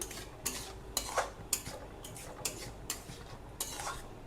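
Tomato and date chutney is stirred in a pan over low heat, with a spoon giving repeated light taps and scrapes at a steady pace at close range, and no talk.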